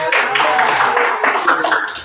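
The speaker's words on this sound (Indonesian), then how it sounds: "boleh tepuk tangan" An audience at a teacher training session breaks into applause, a dense, fairly close burst of clapping lasting about two seconds.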